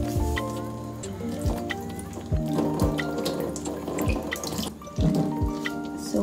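Tap water runs into a sink during face washing, a steady splashing stream with irregular drips and small knocks, fairly close, alone with music-like tones underneath.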